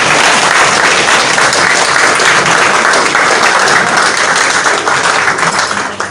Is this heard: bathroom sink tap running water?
no